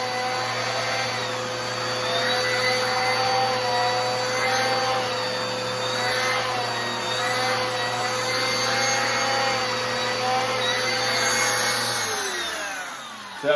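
A Bissell Power Force Turbo Rewind pet vacuum runs loud and steady with its brushing action, a constant motor whine and roll that surges slightly as it is pressed down, then winds down at the end.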